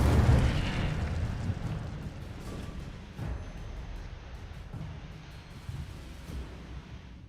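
An Incendio fire spell in Hogwarts Legacy erupts with a loud burst and settles into a rushing, crackling roar that fades gradually, punctuated by a few softer pops.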